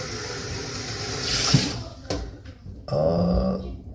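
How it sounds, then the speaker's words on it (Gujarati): UK tap water runs steadily from a faucet with a rushing hiss, then stops, followed by a short gurgle and a voice speaking close by. "હવે તમે જોઈ શકો છો પાણી ઉપરથી નીચે પડી રહ્યું છે."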